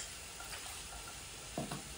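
A spicy dish set on to cook gives a faint, steady sizzling hiss, with two quick clinks of a utensil near the end.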